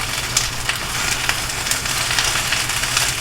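Bok choy stir-frying in a hot pan gives off a steady sizzling crackle, with a dense hiss and scattered small pops running through the whole few seconds and no voices over it.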